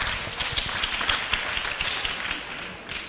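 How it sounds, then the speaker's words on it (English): Congregation at a church youth program claps along, a busy, uneven patter of many hands kept up loudly for several seconds with no speech. "Clap for him."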